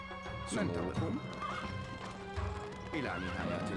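Horse neighing and hoofbeats in the medieval strategy game Stronghold: Crusader, with two whinnies rising over a steady galloping clip-clop, mixed with game music and voice lines.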